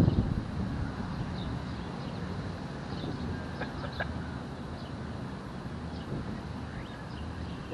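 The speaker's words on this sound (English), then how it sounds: "It's really windy today," Wind buffets a microphone outdoors on a blustery day at an urban fishing spot, a steady low rumble and roar that persists throughout with faint higher chirps in the background.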